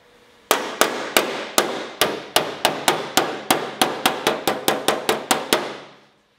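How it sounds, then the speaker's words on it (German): Light hammer blows shaping sheet metal for a car sill repair, about eighteen sharp metallic strikes in a steady, slightly quickening rhythm, close and clear with a short ringing decay after each hit. "Und dann das Blech quasi in Form bringen mit leichten Hämmerschlägen"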